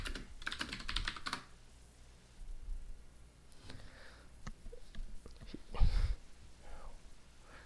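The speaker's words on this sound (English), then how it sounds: "I'm just typing shit out as I say it" Computer keyboard typing in bursts of rapid clattering keystrokes, loudest early on, then sparser scattered taps with a few heavier key hits, fairly close and alone without talk.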